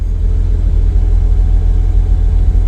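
A 1963 Ford Falcon convertible idles in park while its power top motor runs, a loud, steady low engine rumble close by, with a faint whirring motor hum blended underneath.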